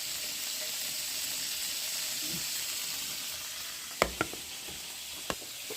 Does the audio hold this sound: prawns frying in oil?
yes